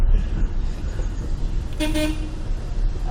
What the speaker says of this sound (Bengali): হর্ন বাজে।